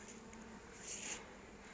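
Bees swarm around an opened beehive in a loud, steady buzz with a swelling drone partway through, close by and with no voices.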